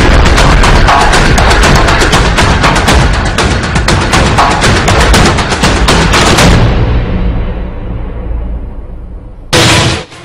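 Automatic AK-47 and SLR rifle fire rattles in loud, rapid bursts as Naxalites hidden in the hills attack STF troops. The shots pour out for about six seconds, then die away into an echoing tail before a final sharp crack.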